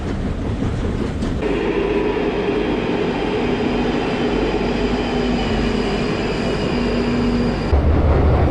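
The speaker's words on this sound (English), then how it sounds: "I haven't been on the Northern Line for a few months and I've forgotten how noisy it was." Loud, steady rumble and roar of a London Underground Northern Line train running through a tunnel, with sustained whining tones and a harsh metallic edge throughout.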